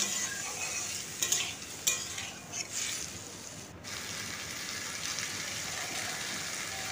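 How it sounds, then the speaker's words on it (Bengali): Potatoes and Gobindobhog rice fry together in hot oil in a pan, a loud continuous hissing sizzle with a few stirring scrapes and knocks early on before settling into steady frying. "এরপর আলু গোবিন্দভোগ চাল সব একসাথে আমি ভেজে নেব।"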